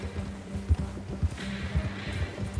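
A horse's hooves pound in a quick uneven gallop rhythm in Red Dead Redemption 2, moderately near over low ambient game sound.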